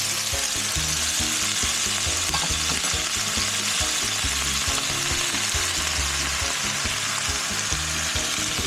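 Vinegar hits a hot pan of sweet and sour sauce for tilapia and sizzles in a loud, continuous hiss, steady throughout with no voices.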